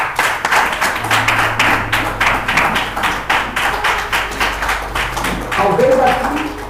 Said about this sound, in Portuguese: pode se assentar aplaudindo